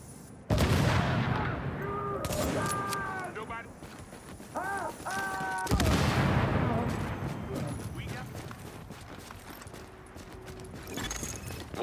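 A grenade blast and bursts of gunfire ring out in The Division survival mode, with a sharp loud detonation, crackling debris and further shots, mixed with shouted voices and tonal game alert sounds.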